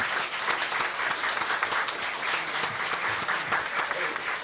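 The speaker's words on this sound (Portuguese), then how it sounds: "Salva de palmas." Audience applause at a public hearing of a municipal council for the elderly in Osasco, a steady dense clatter of many hands clapping throughout, fairly loud and close.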